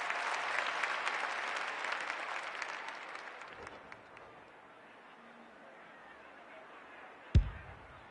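Crowd at a women's football match, a broad roar with scattered applause that is loud at first and thins out, ending with a sharp thump near the close.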